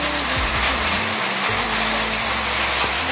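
Heavy rain pours steadily, a dense hiss of water drumming on surfaces, with a low rumbling hum underneath and no voices.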